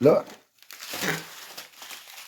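Cardboard box of an X-Shot gel blaster being opened, with a quick crinkling, crumpling rustle of packaging up close, followed by softer handling noises and a brief spoken word.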